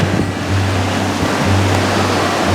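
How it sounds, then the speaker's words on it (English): Waterfalls cascading down a mountainside in the Pecos Wilderness near Nambe Lake, a constant dense rush of falling water, loud and steady with a low rumble and no speech. "the waterfalls are pretty"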